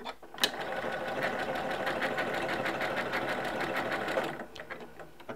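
A Janome M17 sewing machine runs steadily while stitching decorative stitches, a dense continuous whirring hum that holds for about four seconds after a brief tap, then stops abruptly into quiet handling sounds.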